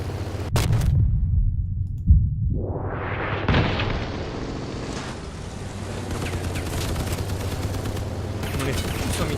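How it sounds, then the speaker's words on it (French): A loud explosion hits in the vehicle combat video game Crossout, with a sharp blast followed by a rumbling, crackling roar that rises and lingers under steady battle noise. "J'ai explosé."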